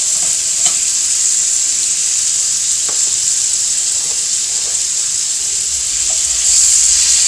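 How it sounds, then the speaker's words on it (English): Minced-garlic pork chops searing in a skillet, a loud, steady sizzle and hiss with small occasional pops, continuous throughout with no voices. "And you can kind of hear them searing in the skillet."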